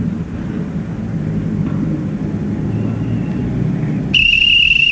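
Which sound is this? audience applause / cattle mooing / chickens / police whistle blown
police whistle blown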